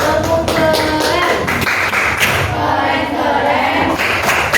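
A school class in Indonesia performing a rhythmic clapping chant, with patterned claps and taps, some thumps, and voices joining in throughout.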